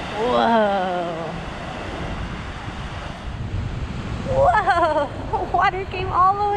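Ocean surf surges into a sea cave on the rocky coast of Easter Island, with a deep rushing wash under heavy wind buffeting; a person speaks briefly at the start and again near the end.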